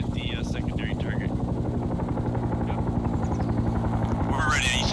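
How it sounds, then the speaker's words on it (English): Helicopter in the Arma video game with SOG Prairie Fire, flying nearby with a steady rapid rotor thump throughout, loud and continuous, with a few short effect sounds over it. "I'm pretty sure that helicopter's spotting for it."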